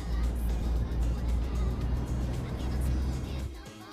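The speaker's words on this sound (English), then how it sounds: "I feel like the truck noises are too loud." Steady truck traffic in a city-building game with natural disasters, a continuous loud low engine rumble and hum filling the scene before dropping away near the end.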